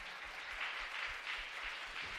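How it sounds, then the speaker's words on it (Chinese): A congregation claps together during a Sunday worship service, a steady, dense applause that holds evenly throughout without any talk over it. "来也给雍成拍手一下"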